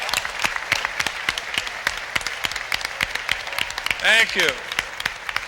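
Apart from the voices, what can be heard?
audience applause at Metro Red Line opening ceremony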